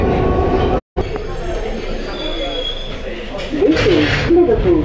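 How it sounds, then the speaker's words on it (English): A London Underground Circle Line train runs between stations near Liverpool Street, a steady rumble of the carriage with wheel squeals and clatter building toward the end, heard from inside the car. "This is a Circle Line train via Liverpool Street and Tower Hill."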